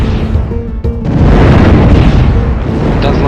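A heavy bazooka-arm blast from an enemy mech in the game Steambot Chronicles, a loud booming explosion with a dense rumbling roar that swells and sustains, a few short bursts before it, no voices.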